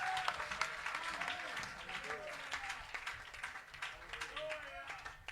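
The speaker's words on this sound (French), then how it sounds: "Acclamez-moi le Seigneur Jésus." A church congregation claps and cheers in praise of Jesus, a dense, steady wash of applause lasting throughout, with voices rising within the crowd.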